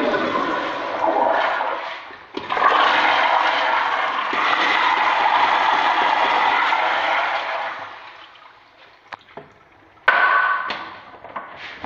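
A toilet in a shopping mall restroom flushes with a loud rushing roar of water that surges, dips briefly, then carries on for several seconds before tapering off, followed by a few clicks and a final short burst of water.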